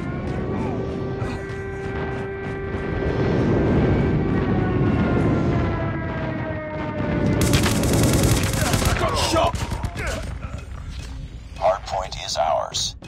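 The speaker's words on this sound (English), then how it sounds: "Friendly airstrike incoming." Friendly airstrike aircraft in Call of Duty Mobile roar overhead with a whining engine tone that sweeps downward as they pass, followed by a burst of rapid explosions and gunfire, with game voice lines over the top.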